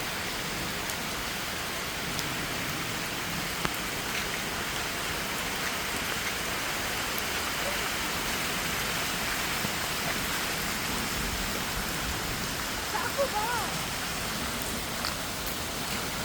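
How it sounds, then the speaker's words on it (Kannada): Heavy rain falls steadily and close by, a dense continuous hiss of drops striking surfaces that stays even for the whole stretch, with no voices over it. "ಮಸ್ತ್ ಮಳೆ ಬರ್ತಾಯಿತ್ತು."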